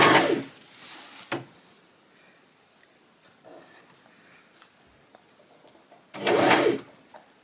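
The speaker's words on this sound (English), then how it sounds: "let's carry on sewing" A sewing machine stitching bias tape on a garment, with two short loud bursts of whirring stitching at the start and end, separated by quiet handling noises.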